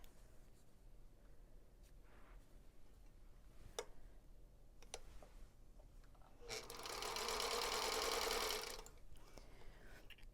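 A sewing machine runs in a short, fast burst stitching a scant quarter-inch quilt seam, preceded by faint ticks and clicks in a quiet room.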